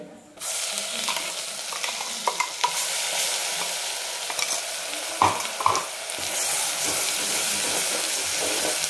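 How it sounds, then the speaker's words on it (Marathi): An onion-coconut paste with chili powder sautéing in hot oil, a dense continuous sizzle with stirring scrapes and occasional clacks of the spoon against the pan, close and steady. "आणि चांगलं तेल आपलं वर येईपर्यंत याला परतून घ्यायचं"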